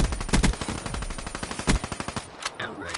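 Automatic gunfire from a Call of Duty video game weapon, a rapid string of sharp close shots in bursts with brief pauses, ending in quieter mechanical clicks and a rising electronic tone.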